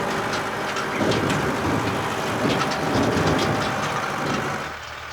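A tractor towing a trailer across open grassland gives a steady engine rumble mixed with rattling and clattering from the trailer, fairly close and continuous, before easing off at the very end.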